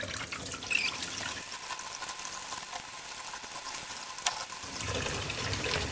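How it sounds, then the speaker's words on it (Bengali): Raw chicken pieces are rinsed under running tap water in a home kitchen, a steady close splashing and trickling stream that stays even throughout with no talk. "আমি চিকেনগুলো ধুয়ে নিচ্ছি।"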